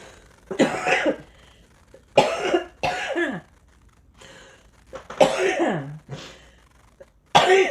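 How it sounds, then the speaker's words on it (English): Several harsh, loud coughing fits in bursts with short pauses between them, close to the listener, no talking. "If I could quit coughing long enough to drink it."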